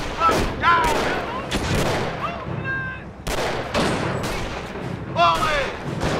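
Rifle gunfire in Company of Heroes, set in the Normandy campaign of World War II, with sharp cracking shots and short volleys close by, and shouted voices and radio-like chatter in between.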